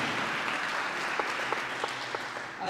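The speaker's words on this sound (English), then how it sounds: "Let's give her a round of applause." An audience at a National Signing Day ceremony claps in a dense, steady round of applause, with a few sharper individual claps standing out.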